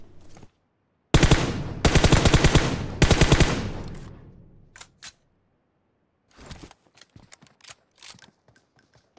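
M4 assault rifle fitted with a 6x scope fires in PUBG Mobile, in three loud rapid bursts, followed by scattered quieter clicks and shots after a pause.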